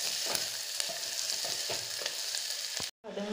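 Onions with salt sizzle steadily in a hot pan, a continuous bright crackle with periodic scraping stirs, cut off by a brief silence near the end.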